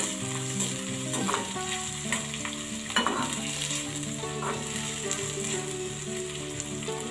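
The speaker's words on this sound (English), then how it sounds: "Now add chopped onion and saute it for few minutes." Chopped onion sautés in hot oil with mustard and cumin seeds for a cucumber curry, giving a steady close sizzle with stirring scrapes and occasional clinks throughout.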